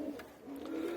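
Stray guest pigeons coo in a crowded loft, a low, soft, throaty murmur rising and falling over about a second, close by.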